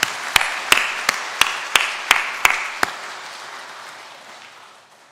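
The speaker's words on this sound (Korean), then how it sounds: "우리 다시 한번 뜨거운 박수 하겠습니다" Scattered hand claps from a church congregation at a Sunday service in Jeongneung Methodist Church, about eight sharp separate claps over three seconds before the sound thins into a fading murmur.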